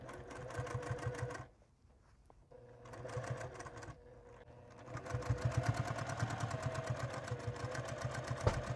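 Sewing machine stitching a scrappy rag quilt Christmas stocking: steady rapid motor hum in bursts, stopping briefly and starting again with a quick back stitch, close and fairly loud.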